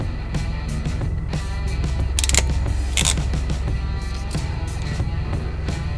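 Someone cranks a ratchet on a GMC C20 pickup truck in park, giving steady mechanical clicking with a couple of sharper metallic bursts, close and fairly loud against a low background hum.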